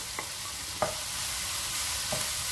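Spices and parsley sizzle in a frying pan for chicken pastilla, a steady soft hiss of frying with a few faint stirring scrapes, no talking.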